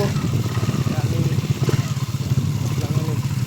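A motorcycle engine runs steadily nearby with a low, pulsing rumble and some clatter, mixed with voices talking over it.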